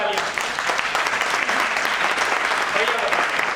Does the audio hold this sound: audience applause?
yes